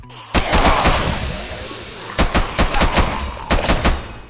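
Automatic gunfire in a Minecraft zombie-fight world: three rapid bursts of loud, close shots, each a quick string of sharp cracks, with short pauses between them.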